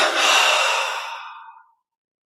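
A deep, long exhale during a yoga breathing exercise, breathy and close, swelling quickly and then fading out over about a second and a half before silence.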